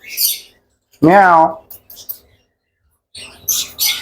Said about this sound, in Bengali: এটা হচ্ছে আফ্রিকান গেরে প্যারট আর ফুললি টেম